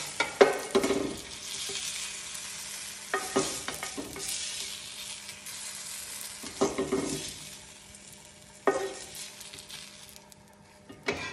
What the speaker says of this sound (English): we're gonna finish frying the rest